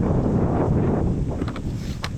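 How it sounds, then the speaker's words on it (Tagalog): Strong wind blows over a river where crabs are caught, a loud continuous rushing roar buffeting the microphone throughout. "Grabe lakas ng hangin"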